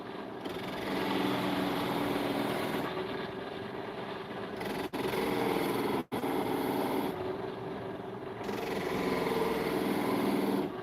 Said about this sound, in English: try to do a little bit of detail work with this spindle gouge here